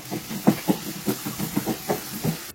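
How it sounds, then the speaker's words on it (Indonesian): Crushed garlic sizzles in hot oil in a pan for sambal bawang, a hissing fry punctuated by rhythmic bursts of louder crackle as the pieces are stirred. "Setelah panas, tumis bawang putih geprek tadi. Tumis hingga harum dan bawang putih berwarna kecoklatan"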